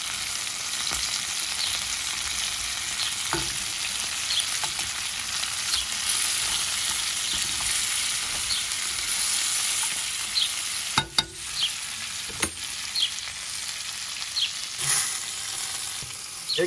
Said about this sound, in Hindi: सब कुछ इसमें डाल के इसको फ्राई कर लेना है।